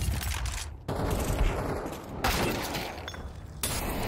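Automatic AK rifle gunfire in Counter-Strike 2 rattles in loud rapid bursts during a professional esports match, separated by brief gaps.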